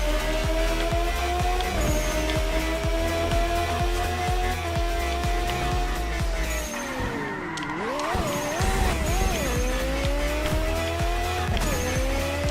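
A race car in a street racing video game runs fast with nitrous at about 241 mph. The engine whines loud and steady, shifts gears and squeals its tires through a skid in the middle, with no voices.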